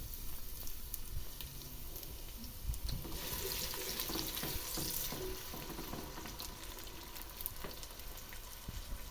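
Small diced onion frying in a pot of ghee and oil, a soft continuous sizzle with occasional stirring clatter, fairly quiet and close throughout.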